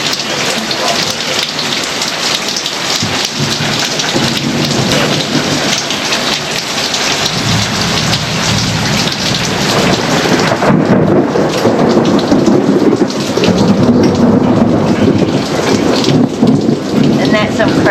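Heavy rainstorm with thunder: a dense, loud, steady roar of rain drumming on surfaces throughout, with deep thunder rumbling underneath and swelling stronger in the second half.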